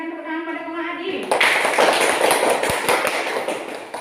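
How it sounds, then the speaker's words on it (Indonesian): Applause from a classroom of students honoring a classmate, a dense burst of many hands clapping that starts suddenly after a sustained voice and fills the room for several seconds. "berikan tepuk tangan pada Komang Adi"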